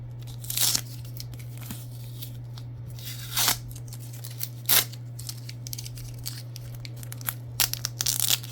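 Tape and paper packaging torn off a 2023 Mosaic Emmitt Smith Cowboys Hall of Fame football trading card, heard as several short, close ripping and crinkling bursts spaced apart over a steady low hum.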